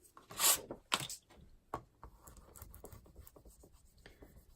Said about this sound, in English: And just burnishing that down to make sure I have good contact.